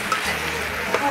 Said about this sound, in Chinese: 我们把杏鲍菇也下次放进来拌爆炒一下